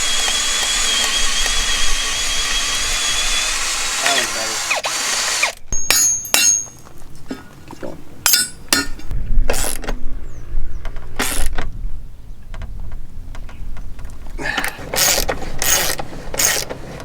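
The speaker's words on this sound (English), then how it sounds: "we're gonna basically bolt this together right now" Gate hinge brackets are bolted together with nuts, washers and lock washers. A steady mechanical hum gives way to bursts of sharp ratcheting clicks and metallic clatter, close and fairly loud.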